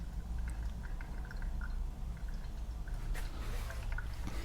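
Faint liquid trickling and small drips of pour-over filter coffee fall into a vessel, quiet and intermittent over a low background hum.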